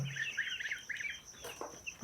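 Chickens at a small home poultry farm give soft, rapid clucks close by, a short cluster of calls followed by quieter scattered sounds.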